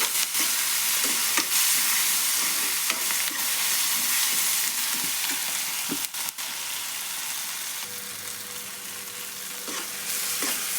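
Chopped tomatoes fry in oil with a constant, bright crackling sizzle, close and steady, punctuated by scattered spatula scrapes and stirring clicks.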